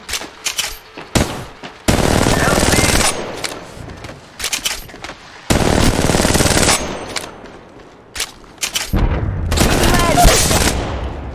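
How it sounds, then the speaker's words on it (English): Rapid automatic gunfire from the mobile battle royale game Apex Legends Mobile, loud sustained bursts several seconds long alternating with shorter single shots and pauses, with brief game voice lines between volleys. "Shots fired"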